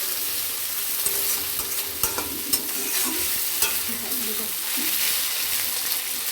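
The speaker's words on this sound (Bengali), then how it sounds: "তো মশলাগুলোকে এখন আমি কষিয়ে নেব।" Spices for a chicken curry stir-fried in a pan, giving a continuous bright sizzle with scattered clicks and scrapes of a spatula stirring against the pan.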